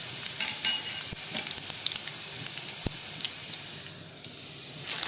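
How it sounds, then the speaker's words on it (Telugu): Coriander, cumin and fenugreek seeds fry in a little oil, giving a steady soft sizzle with light crackles and a couple of sharp pops, close and continuous throughout. "ఇది కొద్దిగా ఒక నిమిషము 2 నిమిషాలు సిమ్లో పెట్టి వేయించాలి"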